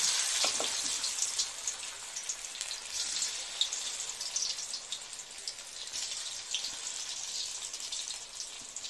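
Cauliflower frying in hot oil over low heat, producing a soft, continuous hiss with a fine patter of crackles, moderately quiet, with no speech.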